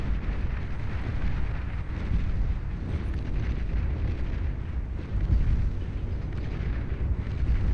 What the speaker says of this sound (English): Those Cormorants dropping their light torpedoes, trying to take out whatever they can.